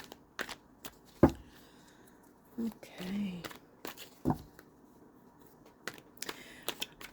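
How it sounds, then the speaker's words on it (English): Tarot cards being shuffled, soft riffling and tapping with a few sharper snaps, while a person speaks briefly nearby. "While I'm shuffling here and getting ready"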